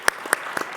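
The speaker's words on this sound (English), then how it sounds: "Please give them a round of applause." A few scattered, sparse claps from an audience after a Detroit City Council panel discussion, brief and fairly faint in a large room.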